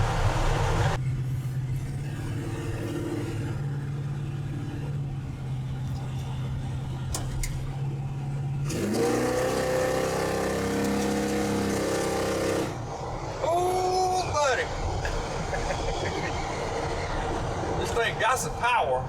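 A Chevy C10 pickup with a built 454 engine drives on a rough wooded back road, a steady low engine drone with shifts in tone and rumble, rattles and road noise, and someone talking intermittently over it.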